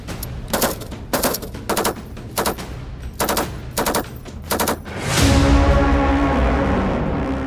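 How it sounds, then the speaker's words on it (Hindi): Indian Army T-90 and T-72 tanks and BMP vehicles fire during an exercise in Ladakh's forward area, with short, loud bursts of rapid gunfire at regular intervals followed by a sustained rumbling roar. "इसमें T-90 टैंक्स, T-72 टैंक्स और साथ में BMP एक साथ फायर कर कर ये अभ्यास कर रहे हैं।"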